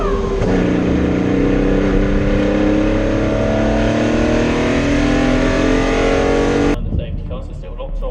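Several race car engines, including a TVR Griffith, roar together as they accelerate on a restart at Donington Park, pitch rising steadily, loud and close, before cutting away abruptly near the end.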